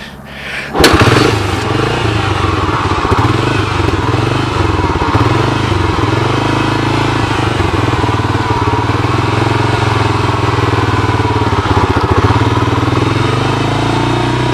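A 1985 Honda TRX250 ATV engine catches after a sharp start-up thump and settles into a steady, loud, close mechanical running note that holds unbroken to the end.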